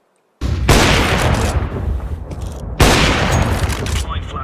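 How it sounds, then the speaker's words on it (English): A Counter-Strike 2 match with two loud sudden bursts, each an explosive blast followed by sustained harsh noise like a flashbang and gunfire, under intermittent speech. "Deploying flashbang. Throwing flashbang."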